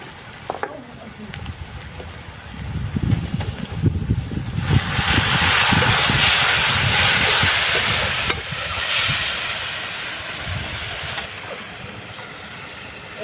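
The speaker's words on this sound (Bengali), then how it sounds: "এবার আমি এতে দিয়ে দেবো সামান্য পরিমাণে জল।" Water poured into a hot pan of shrimp bhuna hits with a loud rising sizzle and steam hiss that swells for a few seconds and then settles into quieter bubbling, with faint stirring noises earlier.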